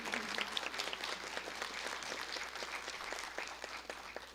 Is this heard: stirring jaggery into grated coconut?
no